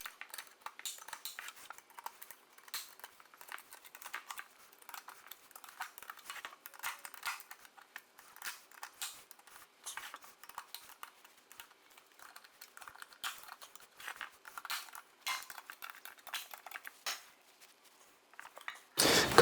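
A metal can lid's tabs pried up one by one with pliers or a screwdriver while prepping floor finish, giving a long series of small, sharp metallic clicks and scrapes, quiet and close, with no voices.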